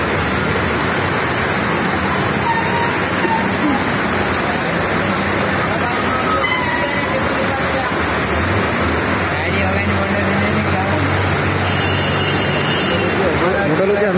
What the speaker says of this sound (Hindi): बहुत पानी बहुत तेज आ रहा है।